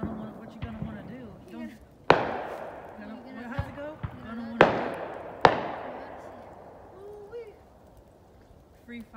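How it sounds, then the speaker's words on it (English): Several sharp cracking bangs of backyard fireworks on New Year's Eve burst out at irregular intervals, each trailing off, with people talking in between, beside a bonfire. "Free fireworks show in our backyard."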